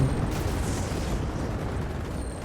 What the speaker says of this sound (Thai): อัลติเมทของบังกะลอคือปลา ระเบิดเข้าไปแล้วมันจะมีนี่ไง มีทรายตกลงมาจากฟ้าแล้วก็ระเบิดโอ้บุ้บุ้มบุ้มบุม